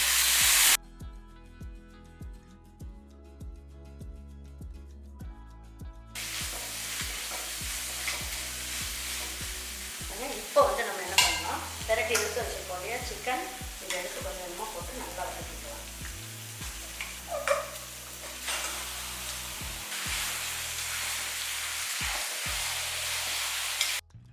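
Chicken sautéing with tomato paste in a pan: a steady sizzle with bursts of scraping and clattering stirring in the middle stretch, under soft background music.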